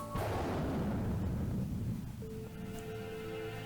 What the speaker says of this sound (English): The ground shook violently as the explosion rang out.